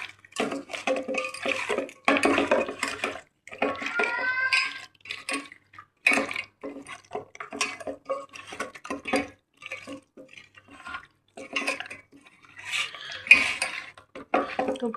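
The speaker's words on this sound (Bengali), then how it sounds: "এরপরে ভালো করে চিকেনটাকে মাখিয়ে নেব।" Chicken is mixed by hand with cornflour and soy sauce in a bowl, giving wet squelching and slapping bursts with utensil clinks, close and intermittent, separated by brief silences.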